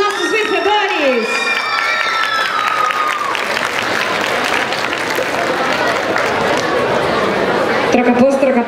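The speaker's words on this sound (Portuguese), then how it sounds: "E por favor, uma salva de palmas para os nossos vencedores." A crowd claps and cheers for the winners of a K-pop contest at the Anime Santos Geek Fest Xmas edition, dense sustained applause with shouts and chatter, while a voice calls out over it at the start.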